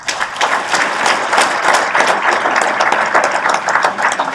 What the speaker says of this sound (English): Please give a warm round of applause for John Garrison, 2017 inductee to the Mass